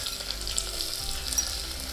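Long-sliced onion frying in oil in a pan for coconut milk biriyani, with fennel, peppercorns and stone flower already in; a steady close sizzle with faint stirring, no voices.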